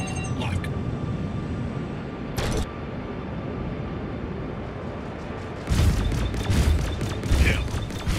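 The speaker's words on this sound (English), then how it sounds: "Oh, that was close. Missile lock." Space combat in the game Star Citizen, with steady engine drone and bursts of weapon fire and explosions rising loudly near the end, brief crackling hits earlier, and a voice speaking over it.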